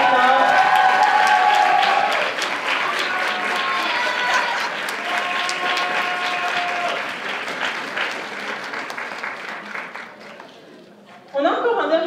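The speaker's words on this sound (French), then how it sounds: "On peut l'applaudir très fort." An audience at a cosplay costume parade award ceremony at an anime convention applauds loudly and steadily, some cheering mixed in, the clapping thinning toward the end before a brief fresh burst.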